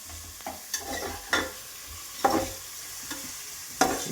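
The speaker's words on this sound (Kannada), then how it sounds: "ಇದು ಬ್ರೌನ್ ಕಲರ್ ಆಗುವವರೆಗೂ ಸ್ವಲ್ಪ ಫ್ರೈ ಮಾಡ್ಕೊಳ್ತಾರೆ, ಇಲ್ಲ ಅಂದರೆ ಈರುಳ್ಳಿ ಸ್ಮೆಲ್ ಹಂಗಂಗೆ ಇರುತ್ತೆ" Onions fry in a pan until brown for mutton biryani, giving a close, continuous sizzle. About five sharp spatula scrapes mark the stirring, and no one speaks.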